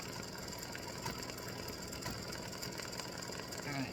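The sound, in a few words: embroidery machine stitching out FSL gnome mummy earrings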